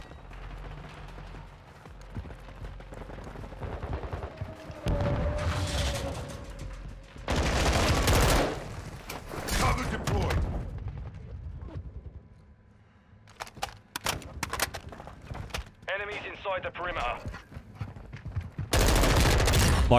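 Bursts of AK assault rifle fire in a Modern Warfare 2 match, loud sharp volleys and shorter cracks spread across the stretch with brief quieter gaps between them.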